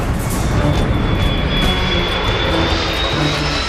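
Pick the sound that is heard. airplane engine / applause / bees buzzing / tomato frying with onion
airplane engine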